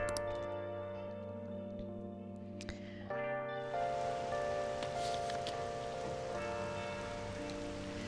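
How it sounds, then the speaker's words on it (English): Steady rain falls in a Persona 5 street scene, a soft continuous patter under layered game music with no talking. "It's raining outside."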